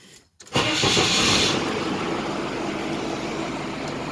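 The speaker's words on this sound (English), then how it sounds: "back to the F-150 with the Cummins in it. I'm going to start it up" A Cummins diesel fitted in a Ford F-150 pickup cranks briefly and fires up, then settles into a loud, steady, rumbling idle close by.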